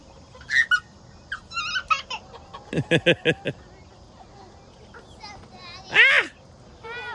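A chicken at a neighbor's place with many chickens gives a brief clucking call near the end, amid short bursts of a child's and adults' voices.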